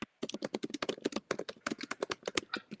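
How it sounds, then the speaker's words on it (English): Someone types on a computer keyboard during an online school board meeting, a quick irregular run of close, crisp key clicks after a brief silence. "Somebody's typing and I can hear that."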